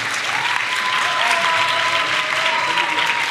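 A studio audience applauds steadily throughout, dense and sustained, at a French environmental talk show on feeding a city, with a voice talking over the clapping.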